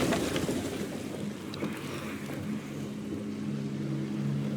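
Fishing boat on open water in the video game Banishers: Ghosts of New Eden, with a steady wash of water, wind and a low engine-like hum running continuously at moderate level, no talk.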